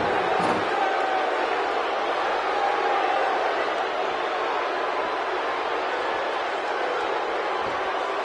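A large arena crowd roars steadily throughout a wrestling video game match, a dense wash of cheering that holds loud and unbroken from start to finish.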